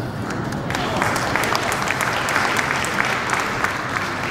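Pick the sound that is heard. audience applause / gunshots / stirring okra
audience applause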